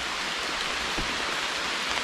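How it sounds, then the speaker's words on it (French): Steady rain falls outdoors as a constant dense hiss of drops on surfaces, even and close throughout with no voices. "il pleut"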